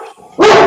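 A dog gives a single sharp, loud bark up close after a brief quieter moment of faint sound.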